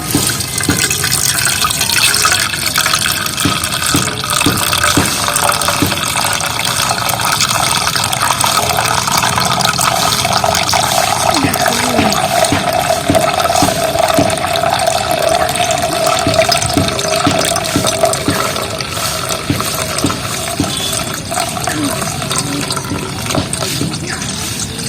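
Water is poured slowly and trickles and splashes continuously into a vessel while cornflour is being prepared at home. The flow is fairly loud and close, with slight gurgling changes, and faint speech is heard at times.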